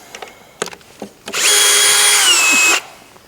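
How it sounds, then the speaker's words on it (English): A power driver backs a socket head cap screw out of a DynaCon conveyor hex plug. A few light clicks come first, then one loud, close, steady whirring burst of about a second and a half that stops abruptly. "So I'm going to back this one out of here."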